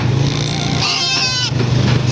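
A young Anglo-Nubian cross male goat bleats loudly in a long, wavering cry over a steady low engine hum that runs throughout, at a farm.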